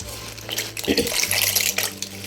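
Water poured from a vessel into a pan for boiling macaroni, a splashing, gurgling stream that swells in the middle of a short burst, with no talk over it.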